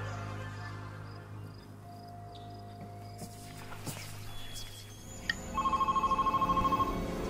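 A home telephone rings in a film scene, a rapid trilling bell repeating steadily near the end over a dense background hum and scattered faint sounds.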